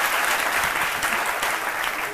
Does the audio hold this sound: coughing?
no